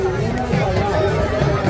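Dense crowd hubbub at the Geeta Jayanti fair beside Brahma Sarovar in Kurukshetra, a steady wash of overlapping voices and chatter with no single speaker standing out, continuous and close all around.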